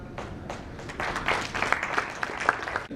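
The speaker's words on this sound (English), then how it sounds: "Please give a round of applause." Applause at a leadership summit as a speaker is invited onto the stage, starting with a few scattered claps and swelling into a fuller round of clapping from the audience.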